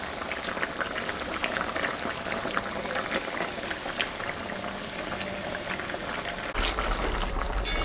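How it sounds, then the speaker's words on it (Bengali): Rohu fish slipped into a pot of boiling curry gravy, with a steady bubbling hiss that swells and thickens near the end. "ঝোলটা ফুটে গেছে। এখন আমি মাছটা দিয়ে দিই।"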